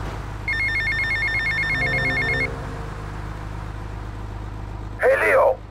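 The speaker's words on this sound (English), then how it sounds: "Hey, if Leo knows you got his phone, he's gonna kill you." A telephone rings in Grand Theft Auto: Vice City, a bright electronic double-trill repeating for about two seconds, followed by a lower tonal jingle, then quieter ambience and a short burst of voice near the end.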